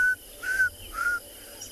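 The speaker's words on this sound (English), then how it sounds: "There's some oxpeckers flying over us, and southern carmine bee-eaters that I can hear calling" Southern carmine bee-eaters and oxpeckers call at sunrise on a safari, three short clear whistled notes spaced apart over quiet outdoor background, moderately near.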